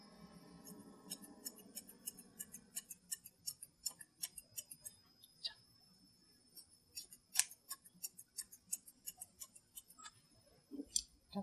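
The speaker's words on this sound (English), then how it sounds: "Over it with smaller thinning shears to soften it." Quiet, crisp snips of small thinning shears trimming the head hair of a Soft Coated Wheaten Terrier, an irregular series of close clicks at a steady working pace, faint background hum at first.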